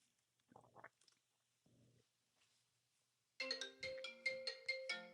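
A mobile phone ringtone chimes in a repeating melodic pattern, close and clear, after a few soft rustling noises in an otherwise quiet room.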